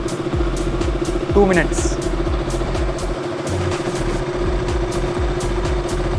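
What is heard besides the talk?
motorcycle engine running after three years unused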